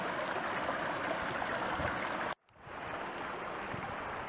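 A creek flows into the ocean on the Lost Coast, a loud, close, steady rush of water that cuts out abruptly midway and then returns slightly quieter, with no talking.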